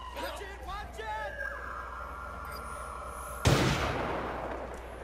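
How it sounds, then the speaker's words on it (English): Sniper gunfire in Watch Dogs 2: a single sharp, loud rifle crack bursts out after a stretch of game music and effects, its echo trailing off. "Ah, that's a sniper."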